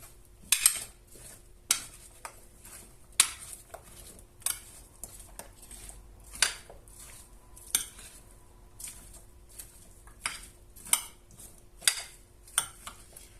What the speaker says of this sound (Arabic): وكنخلطوا هادشي مزيان